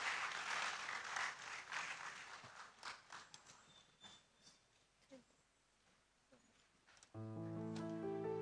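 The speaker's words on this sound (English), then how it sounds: "Let's welcome them with a round of applause as they come up stage." An audience at a university inaugural lecture applauds to welcome the College of Professors onstage, loud clapping at first that thins and fades to scattered claps before music begins.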